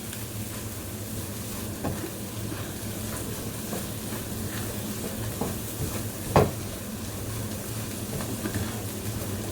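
Scrambled egg and crab stick being stirred in a frying pan, heard as a faint, steady sizzle with soft scraping and an occasional light clink, and no voices.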